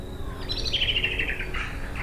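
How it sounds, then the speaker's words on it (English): A blackbird sings from a tree outdoors, a clear bright warbling phrase rising and falling for about a second over steady low background rumble, alone with no talk. "And that's a blackbird in the tree."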